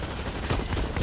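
Rapid machine pistol fire in the first-person shooter Blacklight Retribution, a dense, steady burst of automatic shots filling the whole moment at close range with no pauses.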